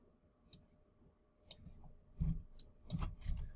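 Several crisp mouse clicks, close and moderately loud, spaced irregularly over a low room hum while someone works in 3D face-rigging software.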